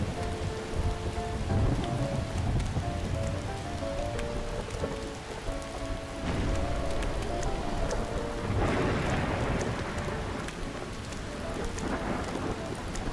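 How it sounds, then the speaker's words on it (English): A thunderstorm with steady heavy rain hissing throughout, while deep rolls of thunder rumble in and swell several times, loud and close, with no voices. "Thunder! Lightning!"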